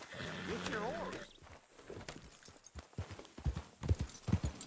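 Musical notes open the clip, then a horse's rhythmic hoofbeats clatter at a gallop in Red Dead Redemption 2, growing louder, with game-like effects and no clear talk.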